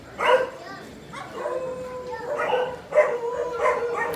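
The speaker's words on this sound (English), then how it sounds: "This damn dog right here sits over there and barks all damn." Dogs bark and yip in a ragged series of short, fairly close calls, with some whining tones between barks.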